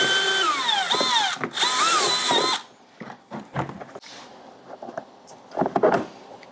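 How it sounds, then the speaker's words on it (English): A power drill bores through a livewell wall for a fitting, its motor whining loud and rising in pitch for about two and a half seconds before cutting off, followed by scattered clunks and handling noises. "So we're going to go ahead and drill about 1 inch, like over here."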